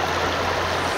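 Steady broadband rush of a flowing water stream near Kotli, loud and continuous with a low hum underneath, no voices.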